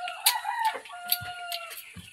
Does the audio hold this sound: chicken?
yes